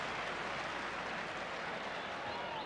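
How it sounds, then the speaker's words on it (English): A football stadium crowd at a 1980 English league match applauding a skilful play, a steady wash of distant clapping and murmur filling the ground without pause. "Good round of applause for a nice skill from Chris Nicol."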